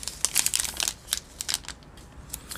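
Crinkly plastic packaging of a Hands off my Chocolate cinnamon cookie chocolate bar rustles and crackles in quick, close bursts as it is unwrapped, then settles into quieter scattered crinkles.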